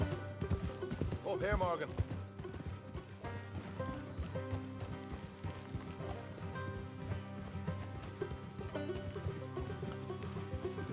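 Horses clip-clop at a walk in Red Dead Redemption 2, a steady hoof rhythm running under background music, with someone talking over it.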